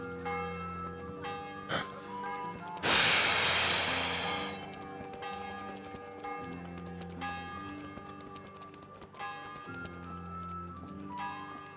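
Church bell tolling ten o'clock in the medieval game Kingdom Come Deliverance, ringing in sustained resonant strokes over layered music and ambience, with a brief noisy burst partway through.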